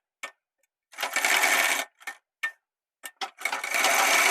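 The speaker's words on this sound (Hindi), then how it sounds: "यहाँ पर हम एक लपकी सिलाई और लगा लेते हैं।" A sewing machine stitches a collar blouse in short bursts: a few quick taps, a longer whirring run, then more brief starts before another sustained run, close and clear with no talking.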